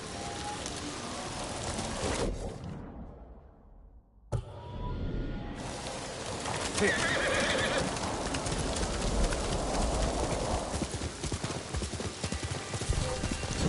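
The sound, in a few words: horse galloping and neighing in Ghost of Tsushima video game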